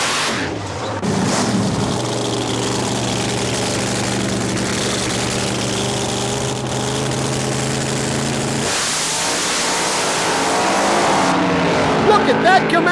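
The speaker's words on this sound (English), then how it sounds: "Look at that Camaro side by side with the dragster all the way." A Camaro races side by side with a dragster down a drag strip, giving a loud, sustained engine roar that holds steady before a shift in pitch near the end.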